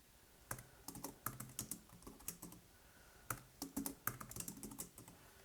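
Custom work hours are typed on a computer keyboard, a close, quiet series of distinct key clicks in short uneven bursts with brief pauses between.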